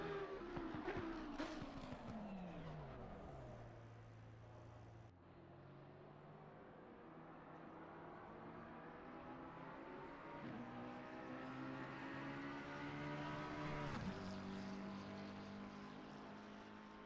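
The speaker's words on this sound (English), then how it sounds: "Hear that V12 roar." A V12 race car engine in a racing video game screams at high revs at Kyalami, its pitch climbing and then dropping sharply with each gear change. Loud and continuous, with no talking.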